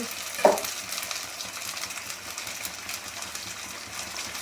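Onion, ginger and garlic fry in a pan for a snakehead fish curry, giving a steady close sizzle throughout with a brief louder clatter near the start.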